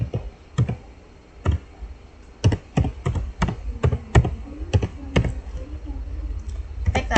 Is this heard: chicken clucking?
no